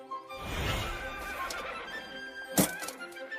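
A horse on a farm lets out a loud, close whinny that rises and trails off, followed by a sharp thump or hoof knock near the end.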